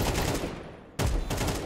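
Dense, loud gunfire from a Counter-Strike 2 match rattles in rapid bursts, breaks off briefly near the middle, then resumes just as heavily, with no talk over it.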